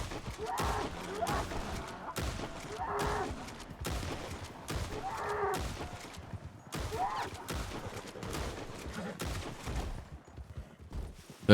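Gunfire crackles through a shootout in a Western roleplay video game: repeated overlapping shots and volleys that are loud and fairly close, with muffled voices and groans mixed in between the bursts.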